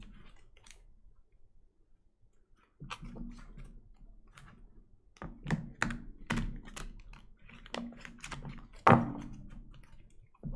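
Tarot cards are shuffled and tapped in a quiet room, making a stiff run of soft clicks, riffles and thunks that start faint and grow busier, close and uneven.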